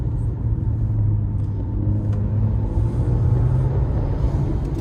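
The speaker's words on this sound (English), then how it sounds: "it's important to see what is going on when you let accelerator pedal off" A car engine hums and rumbles steadily from inside the vehicle with the accelerator pedal let off, its low drone shifting slightly in pitch as the revs change.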